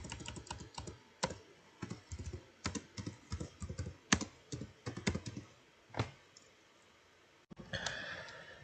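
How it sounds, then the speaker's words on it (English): Quiet typing on a computer keyboard, irregular bursts of key clicks with short pauses, close and soft, ending with a brief rustle. "So let me just finish typing this."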